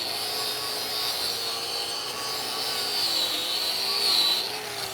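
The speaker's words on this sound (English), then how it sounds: "I'm gonna grind back right there where I just stopped." Steady whirring hiss of a wire wheel grinding back a weld restart on a 6G pipe weld test, a continuous abrasive rasp held close and fairly loud with no talking.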